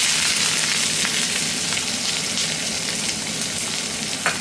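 Chopped onions frying in oil for a Bengali jhinge posto, a steady close hiss and sizzle that holds even throughout with faint crackles and no voices.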